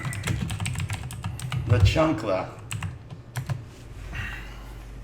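Rapid clacking keystrokes on a computer keyboard run steadily under lively conversation and laughter, fairly close and moderately loud throughout.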